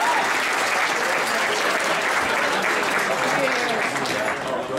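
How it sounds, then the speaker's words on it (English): Round of applause from a crowd at a charity gala dinner, continuous dense clapping at steady volume, tapering slightly at the end. "Round of applause for all of you who made it tonight on behalf of Dreams Take Flight"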